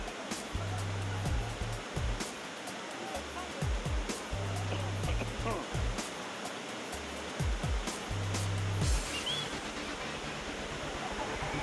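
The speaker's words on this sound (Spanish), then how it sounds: "sonido ensordecedor del agua golpeando a tu costado" A waterfall in Tingo María roars with loud, continuous rushing water, with voices faintly heard beneath the din.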